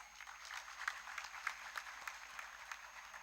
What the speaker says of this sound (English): Let's have a round of applause for these kids.